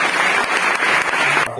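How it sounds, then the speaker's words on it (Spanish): A church congregation at a Bible teaching session bursts into dense, steady applause, close and loud throughout, cutting off abruptly at the end. "Denle un aplauso al Señor por eso."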